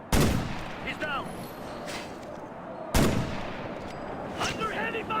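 Two loud gunshot blasts about three seconds apart in a Ghost Recon video game battle, each with a booming echoing tail and scattered distant reports.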